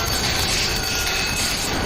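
A train sound effect from an anime rushes in at close range, a loud, steady mechanical rumble and rattle of rail wheels with a thin metallic whine riding on top for the whole stretch.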